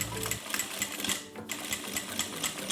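Sewing machine back stitching a zip-around long wallet at a 3.5 stitch length, rapid mechanical needle clatter in quick repeated bursts with a brief pause midway, close and alone.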